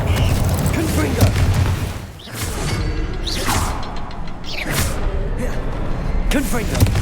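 Repeated fiery spell blasts from the Confringo curse in Hogwarts Legacy, loud booming bursts with whooshing tails recurring every second or two, layered over a dense game soundtrack.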